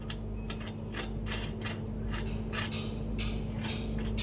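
Nut being fitted onto a machined spindle in a machine shop, giving repeated rhythmic metallic clicks and ratcheting over a steady low mechanical hum; no talk.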